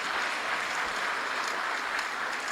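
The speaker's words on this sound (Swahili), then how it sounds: "Makofi mengi kwa Mheshimiwa Rais" Applause from an audience honouring Tanzania's President at a public ceremony where state institutions hand over dividends, a steady wash of clapping that holds evenly for a few seconds without pause.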